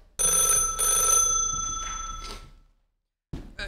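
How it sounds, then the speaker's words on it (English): An old-fashioned telephone bell rings in a vintage children's radio drama, two sustained metallic rings that fade out, then silence before a brief noise. "when the phone rings, he fairly leaps across the room to answer it"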